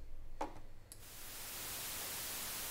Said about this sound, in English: That's white noise,